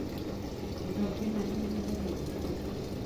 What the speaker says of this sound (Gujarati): આજે પાણી અંદર પડે છે.